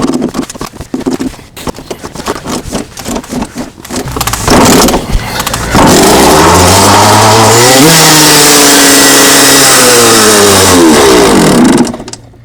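A Suzuki RM125 two-stroke dirt bike with an empty carburetor is kicked over several times with uneven chugs, then catches and revs loudly, its pitch rising and falling in repeated close throttle blips before cutting off.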